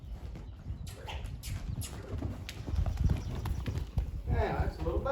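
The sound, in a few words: Appaloosa gelding horse loping hoofbeats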